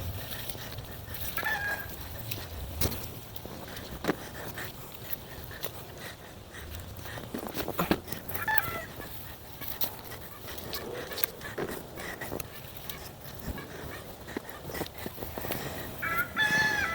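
Backyard chickens cluck softly and a rooster crows a few times at a distance, faint over steady outdoor background noise.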